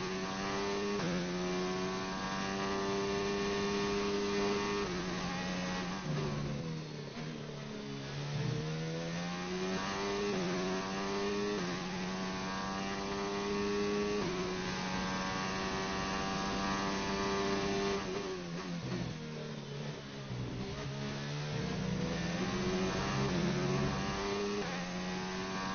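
An F1 car in the video game F1 2019 accelerates through gear after gear, its engine whine rising and dropping repeatedly in a loud, steady run with no talk.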